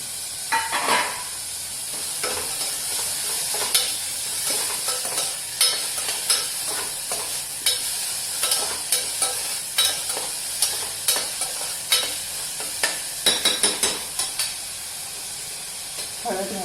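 Onion and tomato sautéing in a pan for a ridge gourd curry, a continuous sizzle broken by frequent rhythmic scraping strokes of a spatula, close and fairly loud.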